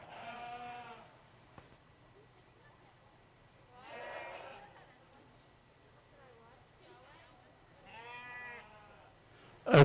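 Hampshire lambs and ewes bleat repeatedly at a livestock show, three or four wavering calls spaced a few seconds apart, moderately close, with a quiet announcer's voice and arena murmur underneath.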